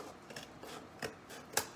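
Large scissors snip through a paper letter stencil in a few quiet, separate cuts, with the sharpest, clearest snip near the end and no voices.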